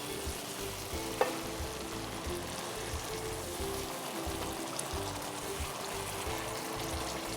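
Mushroom masala sizzles and fries steadily in a pan as water is added, a continuous close bubbling hiss with faint stirring, no voices.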